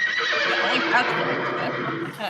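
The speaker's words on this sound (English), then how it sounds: "That's just a horse." A horse whinnies loudly and close, a wavering, drawn-out neigh that fills most of the clip, with faint hoof clops beneath.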